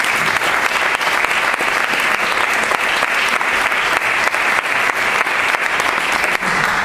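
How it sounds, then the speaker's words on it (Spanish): Loud, sustained audience applause at a political party candidacy presentation in Béjar, Spain, a thick unbroken roar of many clapping hands close and full throughout. "les vamos a dar un aplauso para ella."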